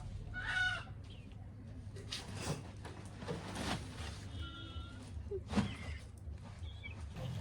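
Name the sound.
chicken clucking in the room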